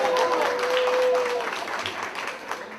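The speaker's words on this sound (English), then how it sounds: "all we have to say is Rene Garcia and then people start cheering" An audience at a candidates forum in Hialeah bursts into cheering and applause, a dense wash of clapping that starts loud and gradually eases off, with a brief whistle-like tone early on.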